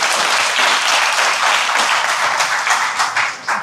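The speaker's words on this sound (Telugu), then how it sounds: "ఇప్పుడు కొట్టండి చప్పట్లు" An audience at a spiritual discourse bursts into loud, dense applause that holds steady for several seconds, then tapers off with a few scattered final claps.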